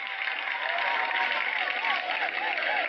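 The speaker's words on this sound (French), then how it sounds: "Il faut l'applaudir." An audience claps together, a steady dense patter of hands with a voice speaking over it.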